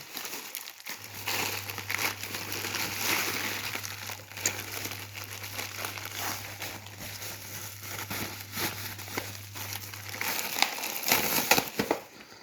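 The plastic packaging of a wireless mini keyboard with a touch pad is handled and crinkles. The rustling is steady and close, with a low hum underneath and no talking.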